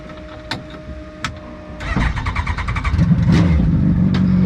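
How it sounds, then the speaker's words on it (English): An MG car engine idles with a couple of sharp blips, then revs up hard in second gear into a loud, rising, rough roar close by. "So, there's second. We'll rev her up."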